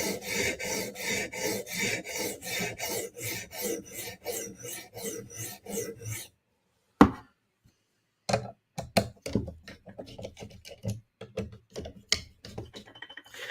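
Knife blade drawn repeatedly against a sharpening stone in steady, rhythmic rasping strokes for several seconds, then a pause and a sharp tap, followed by irregular scraping and light clicks as the edge is tested.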